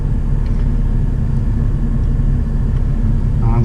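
Car running on new track tyres at the Nürburgring, a steady low engine rumble with road roar holding at an even level throughout, no voices.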